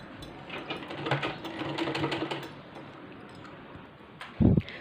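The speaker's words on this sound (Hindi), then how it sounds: "हम ये बाजू पर भी थोड़ी सिलाई लगा देंगे।" A sewing machine stitches the side of a T-shirt in a quick run of soft mechanical ticking and whirring for a couple of seconds, then falls quiet before a short louder clunk near the end.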